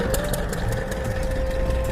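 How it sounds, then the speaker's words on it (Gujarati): A small water pump engine runs steadily close by with a constant hum and a faint high whine, unchanging for the whole stretch, no talking. "પાણી કાઢવાનું મશીન જોઈ લે."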